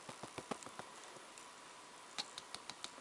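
Water drops falling from a brush onto taped watercolour paper, a series of soft, light taps and pats in irregular rhythm, close and quiet with a faint background hiss.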